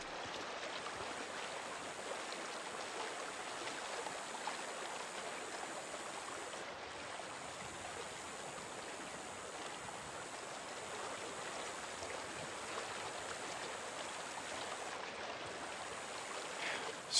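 Flowing stream water in the video game Days Gone: a steady, broad rushing wash, continuous and even in level, with no talk.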